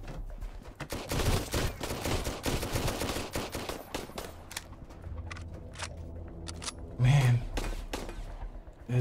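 Rapid bursts of automatic gunfire crackle loudly in the video game Sunkenland, dense volleys early on thinning into scattered shots, with a voice speaking between them.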